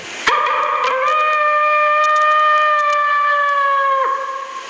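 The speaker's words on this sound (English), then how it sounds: "that's the Arizona Coyotes howl when the Arizona Coyotes score a goal" A phone ringtone plays the Arizona Coyotes NHL goal howl, a loud, close, sustained wolf-like howl that rises, holds steady for about three seconds and then drops away.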